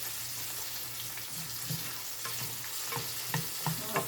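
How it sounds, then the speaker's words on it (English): Julienned zucchini fries in a hot pan, giving a close, steady sizzle broken by small pops and splatters. The crackle stays constant throughout and no one talks over it. "As you can tell, I've taken it off the fire because, well, it's splattering."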